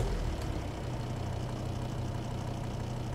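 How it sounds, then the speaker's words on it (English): A car engine idles during a turbo boost control valve test, a steady, fairly quiet low rumble with even ticking that runs unchanged throughout, with no voices. "Okay, so I'll start the engine now."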